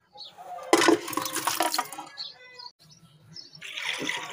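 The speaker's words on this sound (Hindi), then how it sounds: "अब मैं इसे प्रेशर कुकर में डाल के पानी डाल के इसे मैं चढ़ा दूँगी।" Water poured from a vessel into a pressure cooker holding about 1 kg of ojri (tripe) in a home kitchen, a broad splashing gush lasting about a second, then quieter trickling and a second pour near the end.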